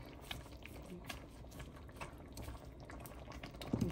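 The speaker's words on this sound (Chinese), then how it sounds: "我们现在把这个豆苗放进去烫一下" Long pea shoots are blanched in a pot of boiling water, with a quiet, steady bubbling and faint liquid churning close by and a brief clatter near the end.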